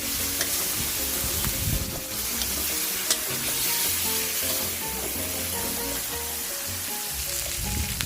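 Sea catfish being stirred in a pan of spicy stir-fry, a steady sizzle and frying crackle with irregular scraping and stirring clatter throughout, fairly close and loud, with no talking.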